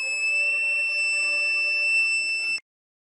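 A buzzer on a DIY breadboard fire detector circuit, triggered by its flame sensor, sounds one steady piercing tone with bright harmonics for about two and a half seconds, then cuts off abruptly into silence.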